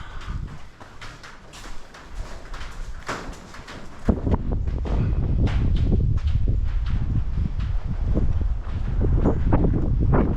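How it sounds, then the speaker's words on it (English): Steady gusty wind buffets the microphone outdoors in a scrap metal yard, rising and growing rougher midway through, with scattered light rustling and thumps and no talking. "Breezy"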